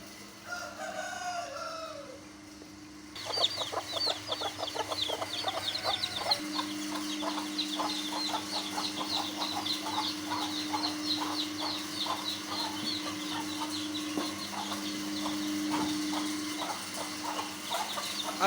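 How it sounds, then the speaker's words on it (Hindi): Fancy chickens on a poultry farm, a dense chorus of clucking and chattering with occasional crowing, close and continuous after a quieter opening few seconds. "अभी मैंने ये जितने मुर्गियाँ फैंसी दिखाई हैं"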